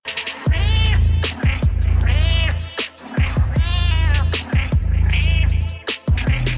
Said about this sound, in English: This little rap beat with the cat behind it